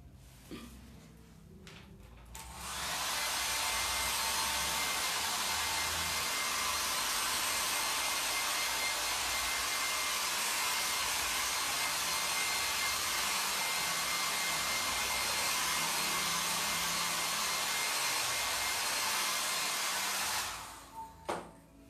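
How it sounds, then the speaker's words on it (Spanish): A hair dryer blows steadily over freshly applied acrylic paint, switching on after a brief pause and running as a loud, even, close whoosh for nearly twenty seconds before cutting off. "sequé con secador y quedó así"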